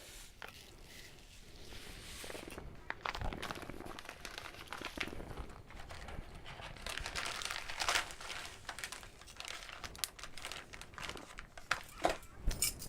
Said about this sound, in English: Dummy me here, cut the side of the bag before I realized there was a Ziploc on this thing, so I have to double bag it now